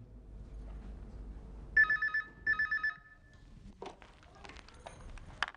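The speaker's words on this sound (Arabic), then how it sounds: "كده رد على التليفون." A telephone rings indoors in two short bursts of bell-like trills, loud and close, followed by shuffling movement in a quiet room.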